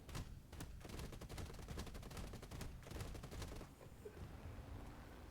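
Rapid bursts of aircraft cannon fire in a flight video game rattle off in quick succession, a dense rhythmic barrage that stops abruptly, leaving a low engine drone.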